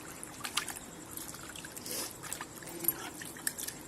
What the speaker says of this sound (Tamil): தண்ணி ஊற்றி நல்லா சுத்தமாக இப்படி தான் அலசணும்